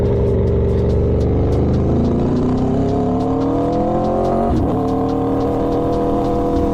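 An Aprilia Tuono V4 motorcycle fitted with an LV Corsa carbon exhaust runs loud and close, its engine note rising and shifting steadily through the whole stretch with no talking over it.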